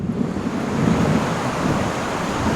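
Shallow river water at a Mexico-Guatemala border crossing, heard as a steady, broad wash of flowing water that holds an even level throughout, with no voices over it.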